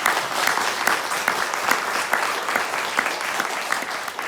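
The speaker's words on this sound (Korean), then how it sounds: "힘찬 박수로 시작하겠습니다" Steady, dense applause from an audience filling the space at the start of a memorial cultural event, continuous clapping throughout with no voices.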